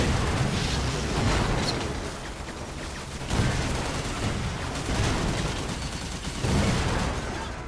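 Heavy booming cannon fire and explosions from a tank in the toy-soldier strategy game Toy Soldiers: Cold War, a dense, loud, continuous battle roar with periodic stronger blasts.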